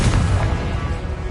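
Confringo, an explosive fire spell in Hogwarts Legacy, lands as a loud, dense, rumbling blast that fills the short moment with sustained low boom and crackle.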